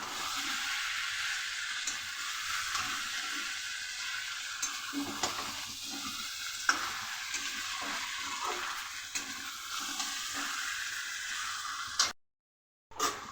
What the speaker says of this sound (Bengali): মধ্যেই দিয়ে দিলাম এঁচড়, কিছুক্ষণ নাড়াচাড়া দিয়ে তারপর জল ঢেলে দেবো।